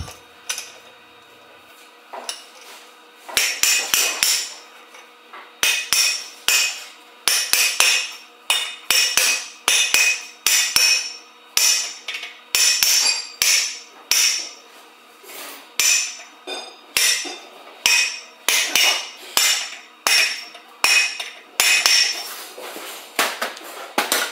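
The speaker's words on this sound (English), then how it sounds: "Now install the wheel bearing cup using some type of pipe." A wheel bearing cup is hammered into a Mahindra Roxor rear axle using a length of pipe: a long series of sharp, metallic hammer blows, close and loud, falling in irregular bursts with short pauses between groups.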